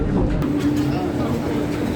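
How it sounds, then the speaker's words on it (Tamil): Chennai metro train pulling into Anna Nagar Tower station, a steady close rumble of rolling carriages that runs throughout, with a person talking over it. "அந்த ஸ்டேஷனில் தாங்க ட்ரெயின் நிற்குது"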